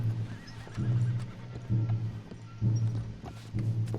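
Horses whinny and snort in a Red Dead Redemption 2 scene, several short neighs repeating close by over a low steady rumble.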